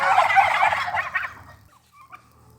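Several turkeys gobble loudly together in a rattling chorus, then fade out, leaving a brief quiet call near the end.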